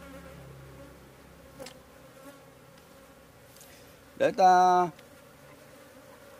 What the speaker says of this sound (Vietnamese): đàn ong kia bay ra rồi